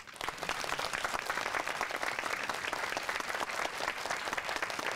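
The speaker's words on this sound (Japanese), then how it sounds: "皆様どうぞ大きな拍手でお迎えください" Sustained audience applause fills the hall at a Japanese premiere stage event for a summer film, dense steady clapping without break as cast and director are welcomed on stage.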